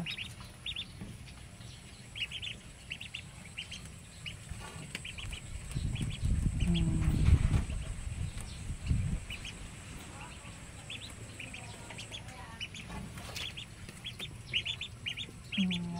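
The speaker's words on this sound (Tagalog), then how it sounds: "Kain na ang mga bibeng. Itik pala, mga itik." Ducks feed on straw in a farmyard, giving soft pecking and scattered quacks and clucks throughout, with a louder burst of activity near the middle and low background noise.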